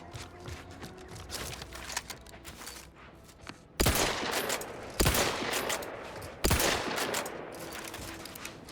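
Gunfire from the player's weapon in Outer Worlds 2: quiet background for almost four seconds, then three loud separate bursts of shots roughly a second or more apart, each trailing off into noisy rumble.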